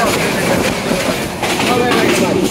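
The inside of a crowded moving train carriage, a loud continuous rumble with rhythmic wheel clatter and a busy wash of noise throughout.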